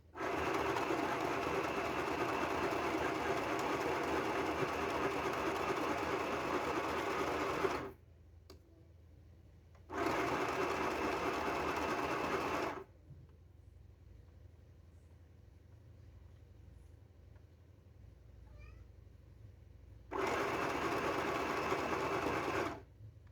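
A sewing machine stitches a fabric bow in three runs of steady, loud, close mechanical whirring, each several seconds long, separated by quiet pauses with faint handling sounds and no talking.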